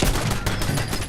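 A shotgun blast in the video game Fallout 4, a loud, dense burst of broadband gunfire that fills the whole moment without any voice over it.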